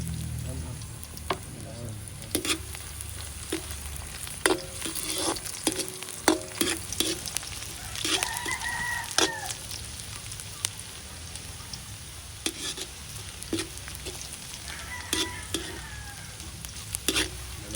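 Garlic sizzles and fries in a pan for a Filipino ginataang suso with pako, with a utensil stirring and scraping in bursts over a steady hiss.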